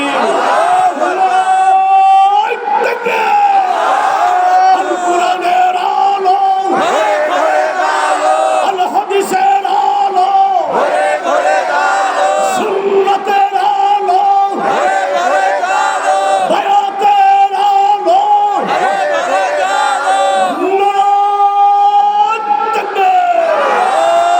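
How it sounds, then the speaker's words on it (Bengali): A large crowd at a Bengali Islamic sermon gathering chants loudly in unison, repeated rhythmic roaring shouts of a takbir call that fill the whole stretch, close and sustained with no quiet gaps. "চিৎকার বলুন না আল্লাহু আকবার"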